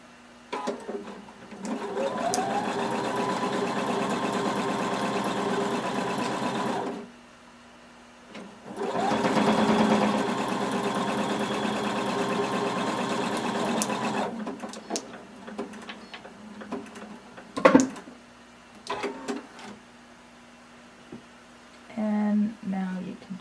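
A sewing machine stitches the lining crotch of a Simplicity 1116 swimsuit in two long, steady, close runs of about six seconds each, followed by quieter fabric handling and a few knocks.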